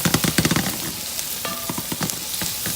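Seasoned food with garlic powder is mixed in a hot pan, opening with a quick run of rhythmic scraping stirs over a steady sizzle, then a few lighter scrapes and clinks as frying continues close by.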